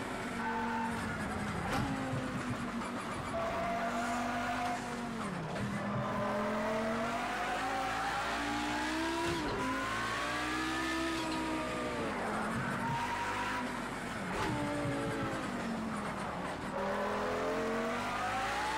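Maxed-out race car in a video game screaming downhill under boost, its engine revving loud and steady with rising and falling pitch sweeps, gear shifts and occasional tire squeal, no talking.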